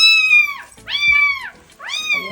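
A cat stuck inside a pipe meows three times, each call loud, close and drawn out, with short pauses between them.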